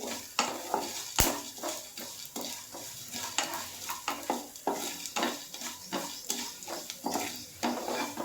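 Spices fry in ghee in a pan for a Bengali ghee katla fish dish, a soft steady sizzle broken by repeated scraping and clinking stirs of a utensil against the pan, heard close and fairly quiet.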